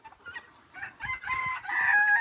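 Young roosters on a hobby farm crow close by, one strained crow swelling over the last second or so with a few softer clucks and calls before it.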